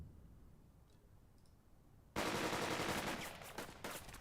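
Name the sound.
gunfire in the video game Burden of Command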